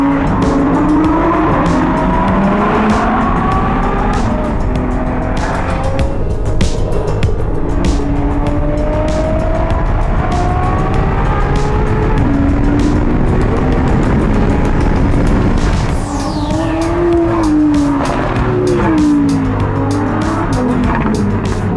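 Lamborghini Sian supercar driving hard, its loud engine rising and falling through repeated gear shifts and revs, heard close and continuous throughout with no talking.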